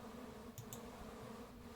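Honeybees from a backyard hive in midsummer give a low, continuous drone with a faint steady buzz and brief ticks, with no voices.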